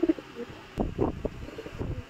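High flyer pigeons cooing close by, a few short low coos in quick bursts against a quiet background.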